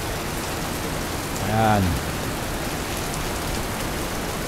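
Heavy rain pouring down steadily in a flood-prone residential area, a constant broadband hiss throughout with a brief voice speaking near the middle.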